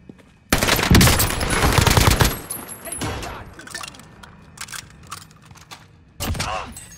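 Loud bursts of automatic gunfire in Call of Duty Warzone, a heavy volley lasting about two seconds followed by scattered shots and a final burst, with faint voices between.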